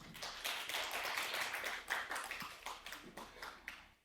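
A conference audience at a regional partners' results-sharing event applauds, a sustained wash of many hands clapping at moderate distance that tapers off toward the end.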